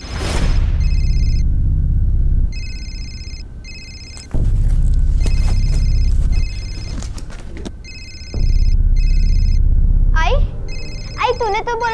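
A telephone rings in repeated electronic bursts over a low rumble, with a brief voice near the end.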